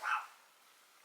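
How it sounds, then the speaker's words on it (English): One short, sharp dog bark sounds from a distance, followed by quiet. "I'm sorry for the barking."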